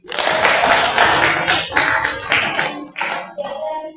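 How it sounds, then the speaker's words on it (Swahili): A crowd claps steadily for a few seconds, a dense patter of many hands that thins out toward the end. "tuwapigie na makofi"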